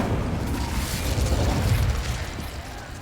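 An Incendio fire spell cast in Hogwarts Legacy, a steady whooshing roar of flame that holds loud and close for several seconds.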